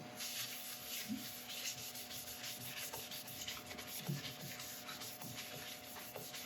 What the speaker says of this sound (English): Okay, this is a shellac sealer.